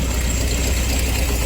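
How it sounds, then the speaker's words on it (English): A car engine idles steadily and close up while its carburetor is being tweaked, a continuous low rumble with slightly uneven pulsing, alone without talk. "trying to get this thing to idle a little more consistently"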